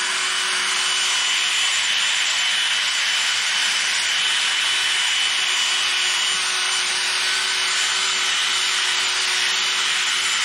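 Steady hand sanding of a W204 car headlight with sandpaper, a continuous close raspy rubbing with even strokes that holds at a constant level throughout, with no talk.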